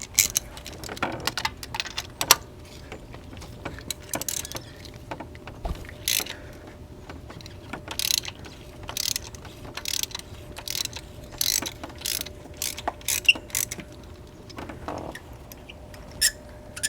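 Ratchet wrench removing the last spark plug from a GM Ecotec 1.4L turbo engine during 60K mile maintenance, heard as a close series of rapid clicking ratchet strokes in a steady, repeating rhythm.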